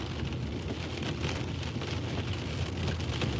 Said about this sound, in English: Like, very intense thunderstorm.